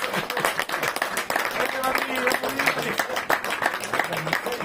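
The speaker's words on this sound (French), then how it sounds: "Et on applaudit le gardien, messieurs dames." Spectators clapping for the goalkeeper at a regional under-15 youth football match in Bayonne, a scattered outdoor round of applause mixed with crowd chatter and voices talking throughout.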